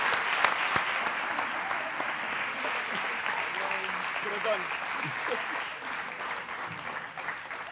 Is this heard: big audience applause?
yes